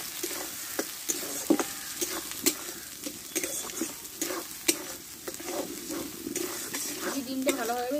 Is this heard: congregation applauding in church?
no